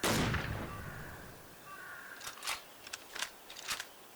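A single sharp gunshot in the hunting game Dangerous Hunts 2011 cracks at the start and trails off in a rumbling echo, followed by a few faint clicks.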